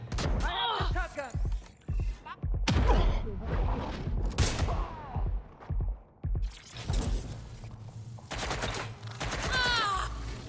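Shotgun fire from the video game Watch Dogs Legion comes as sharp, loud separate blasts with gaps between them, mixed with game effects and brief voices talking.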